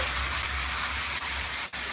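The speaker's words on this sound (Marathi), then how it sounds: "फोडणीचा तडका बसलेला आहे" Hot tempering sizzles in a pan for a stuffed ridge gourd curry, a loud steady close hiss with two brief dips near the end.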